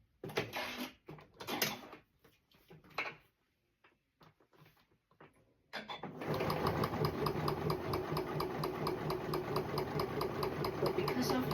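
A sewing machine runs steadily and close, stitching lining fabric into a PU faux leather bag with a zip pocket, its fast even needle chatter starting partway through after a stretch of quiet handling noises and talk.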